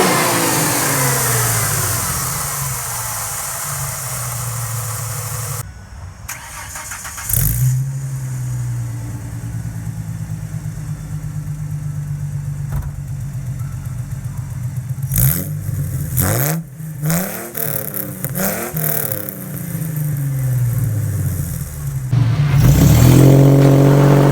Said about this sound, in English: Hear that intake sucking air in at the front.